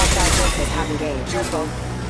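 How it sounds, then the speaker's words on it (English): Gunfire in a Mass Effect 2 firefight, a steady wash of shots and combat noise with voices speaking over it throughout. "Taking heavy fire!"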